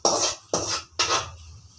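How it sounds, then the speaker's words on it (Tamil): A pot lid is set down on a pressure cooker of simmering tamarind sambar, giving three quick, close clatters in succession with no talking. "இப்போ மூடி வச்சுருக்கேன்."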